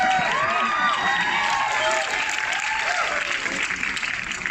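A studio audience on a television talk show bursts into loud, sustained applause and cheering that carries on without pause, with whoops and voices mixed into the dense clapping.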